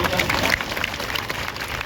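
An audience breaks into brief applause at a comedy show, a dense patter of clapping lasting under two seconds with a voice over it.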